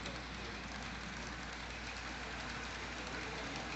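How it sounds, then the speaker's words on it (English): Long vintage TYCO HO model train with Power Torque motors running on the track, a faint, steady whirring hum with no distinct clicks, continuous and unbroken throughout. "Pretty long TYCO train. It's amazing how well those power torque motors will pull."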